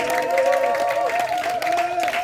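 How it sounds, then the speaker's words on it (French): A church congregation claps and cheers to acclaim God during a Sunday worship service, loud, continuous applause and crowd voices mixed with sustained musical tones running through the whole stretch. "Quelqu'un acclame Dieu pour sa vie."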